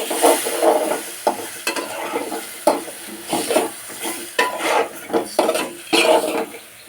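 Spices tipped into a hot pan of browned onions for hilsa curry, with repeated scraping stirs over a steady sizzle, each stroke close and distinct.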